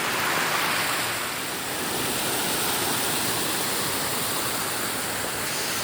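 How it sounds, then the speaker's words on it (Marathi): A stream flowing near the Sapteshwar temple gives a dense, steady rush of water, close and loud, with no pauses and no voices. "छानपैकी असा ओढा गेला आहे"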